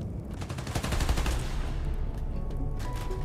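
Rapid automatic gunfire in a video game, loud and continuous, with dense overlapping shots and clatter filling the whole stretch.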